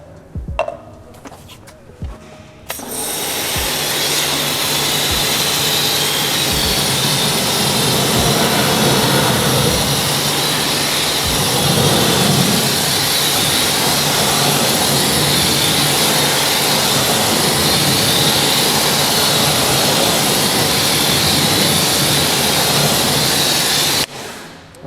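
A pressure water spray hisses loudly and steadily against an Audi S4 wheel and tire for about twenty seconds, a broad close rushing noise that starts and stops abruptly, with no voices over it.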